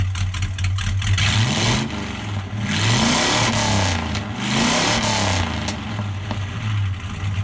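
A 1968 Dodge Charger engine revs up and down repeatedly, loud and close, its pitch rising and falling in several surges with no talking.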